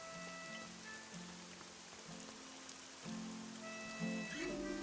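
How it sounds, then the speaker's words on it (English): Steady, soft rain hiss falls in the video game Fall of Porcupine, spread evenly beneath a gentle melodic music score. "I told you it was going to rain"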